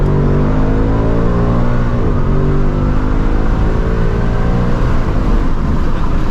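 A 2025 Ford Mustang GT (S650) with a 10-speed automatic accelerates hard from inside the cabin, its V8 engine roaring loud and rising steadily in pitch through a shift, with no talking.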